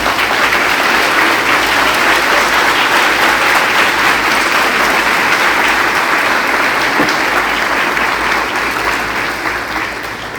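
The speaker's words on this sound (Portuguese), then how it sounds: "Vamos aplaudir o Senhor, vamos." A church congregation clapping together, loud and sustained, a thick continuous wall of applause close up that carries through the whole stretch and eases only slightly at the end.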